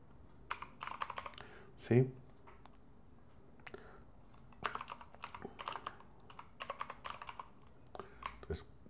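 Close, quiet typing on a computer keyboard in a Python and Jupyter session, with irregular clusters of light key clicks and one heavier thump, spread across the whole stretch.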